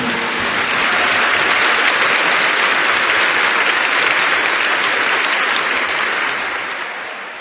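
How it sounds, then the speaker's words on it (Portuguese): Church congregation clapping loudly together in dense, sustained applause that swells quickly and fades gradually toward the end. "Give the Lord a big clap for that."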